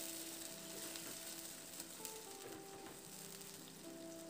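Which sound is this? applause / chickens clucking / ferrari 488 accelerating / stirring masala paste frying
stirring masala paste frying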